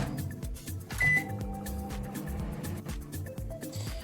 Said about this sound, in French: je fais fondre mon chocolat au micro-ondes